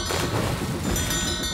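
Cannon fire at a ship in a fictional podcast effect, a dense rumbling boom with a thudding low roll that fills the whole short stretch and stands alone without talk.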